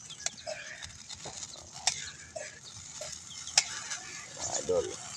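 Thickening buro, fermented rice sauce, is stirred in a pan, with scattered scraping and tapping of the utensil against the pan over a soft bubbling simmer, fairly quiet with some faint voice.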